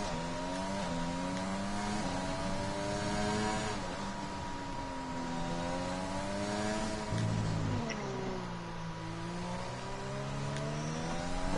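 Racing car engine in an Abu Dhabi sim-racing league race, held high in seventh gear, droning steadily with rising and falling revs and gear shifts throughout, a brief low thump near the end, under faint commentary.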